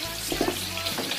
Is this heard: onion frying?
yes